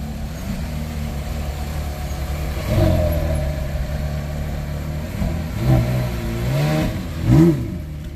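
A Porsche Carrera GT with its V10 engine passes at night in Monaco, a rising and falling engine drone over steady traffic hum, with a couple of louder revving swells as it goes by.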